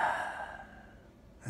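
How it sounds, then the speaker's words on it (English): A single slow, soft exhalation like a deep sigh, close and breathy, fading out gradually in a quiet ASMR setting. "Take some deep breaths."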